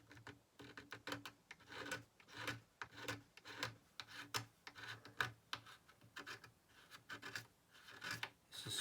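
A scraper held between the fingers works over a chip repair on a classical guitar, making a steady series of short, close rasping strokes in an even rhythm, quiet and with no talking.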